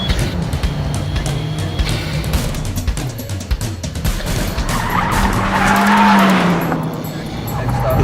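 A Fiat 124 Spider slides sideways on a handling course, its engine droning steadily as the tires squeal loudly through the drift, and a voice talks over it.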